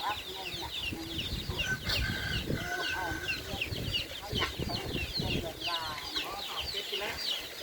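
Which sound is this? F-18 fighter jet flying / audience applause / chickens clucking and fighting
chickens clucking and fighting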